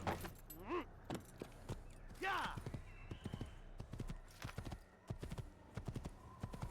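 Horse hooves clip-clop on the ground in the first Assassin's Creed game, a steady run of sharp, fairly near hits, with short bursts of voice and other in-game sounds breaking in between them.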